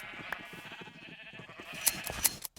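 Sheep bleating during shearing in a blocky farm-building video game, a couple of short high bleats near the end over a steady busy game backdrop with small clicks.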